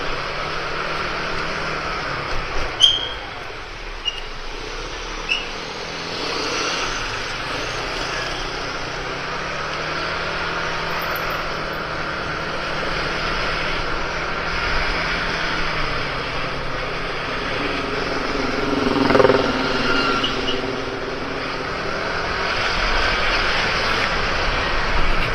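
A stock Yamaha Mio Smile scooter engine at full throttle on the road, giving a steady, droning high-pitched whine with wind rush that swells and eases over a long ride.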